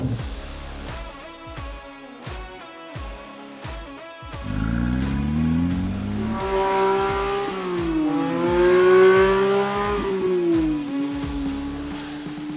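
A sports car engine revs hard to a high-pitched scream, the tone climbing and dropping through gear changes, loud and close.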